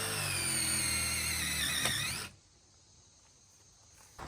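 A power drill with a circular hole-cutting bit whines loudly and steadily at high pitch while boring a 7/8 inch hole, then stops abruptly, leaving quiet room noise and a brief clatter at the end.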